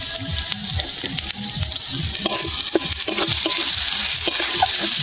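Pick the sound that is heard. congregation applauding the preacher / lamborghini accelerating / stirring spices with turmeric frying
stirring spices with turmeric frying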